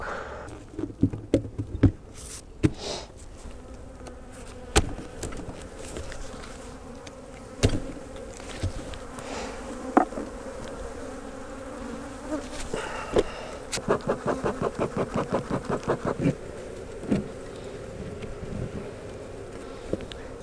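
Honey bees around an open beehive, with a steady buzzing drone under repeated clicks and knocks of hive parts being handled and a quick series of rapid ticks near the end.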